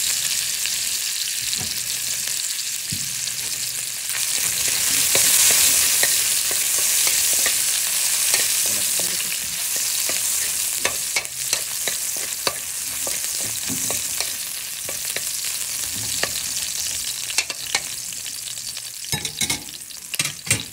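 Garlic and then ginger frying in hot oil in a pan, a constant loud sizzle with intermittent scrapes and taps of a spatula stirring, close by and without talk.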